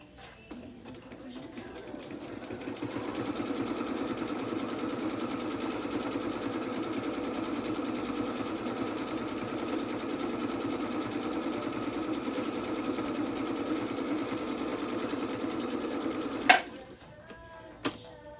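Sewing machine stitching homemade children's clothing, a steady continuous whirring hum that starts after a couple of seconds and runs unbroken for about fifteen seconds, close and moderately loud, ending with a sharp clunk and a brief knock.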